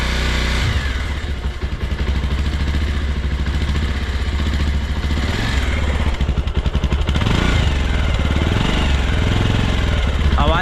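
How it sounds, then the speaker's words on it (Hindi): A motorcycle engine idling after a restart to warm up, a steady close throbbing rumble running the whole time with slight shifts in pitch, and no talk over it. "इसको फिर से स्टार्ट करते हैं जब तक कि नॉर्मली पूरी तरह से वार्म अप ना हो जाए"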